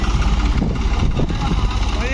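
A New Holland tractor stuck with a loaded soil trolley idles with a steady, near, low rumble, while someone talks over it.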